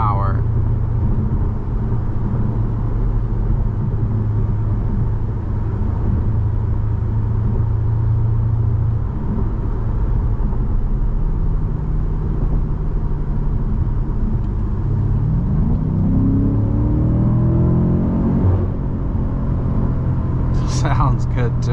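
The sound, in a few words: 2021 BMW M5 Competition engine while driving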